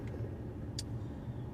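Steady low road rumble of a car heard from inside the cabin while riding, a continuous engine and tyre drone with a brief faint click partway through, no talking.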